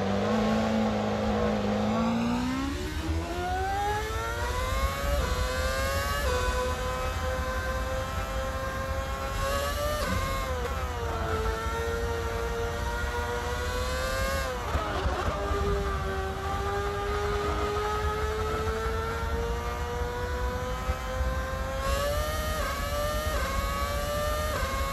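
A formula car engine in the racing game Assetto Corsa on the Nordschleife, a high-pitched whining drone that rises steadily through the gears, with brief drops at shifts and sustained revving under continuous acceleration.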